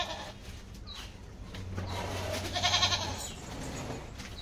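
A goat tied by the leg for milking bleats a few times, with a louder drawn-out cry in the middle over rustling and handling noise nearby.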